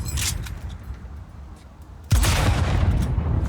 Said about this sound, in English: Let's take him out with a sniper rifle